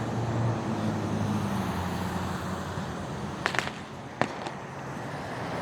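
Distant Fourth of July fireworks pop in a few sharp, faint bangs over a steady wash of road traffic noise outdoors at night, with no talking.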